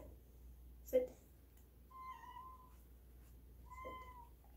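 A house cat meows twice, two drawn-out tonal calls a couple of seconds apart, close and clear indoors after a brief knock, over a quiet room.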